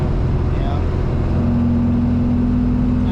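A restored 1958 Porsche 356A 1600 Super sweeping through corners, its engine holding a steady, close drone over constant road and wind rumble for a few seconds.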